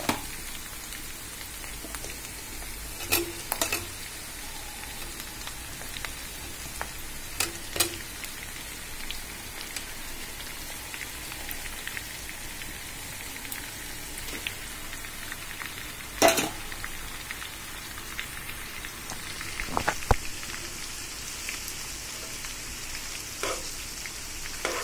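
Fish sizzle and crackle in hot oil in a pan, a faint steady hiss scattered with sharp pops and spits throughout, with no voices.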